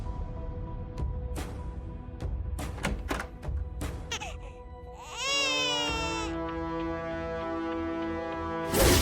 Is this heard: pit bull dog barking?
no